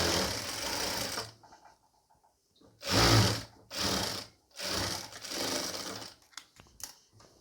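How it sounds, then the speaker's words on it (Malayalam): Sewing machine stitching an N-style nighty, running in several bursts of steady whirring with short pauses between them, close and loud. "സ്റ്റിച്ച് ചെയ്ത് കൊടുക്കുക."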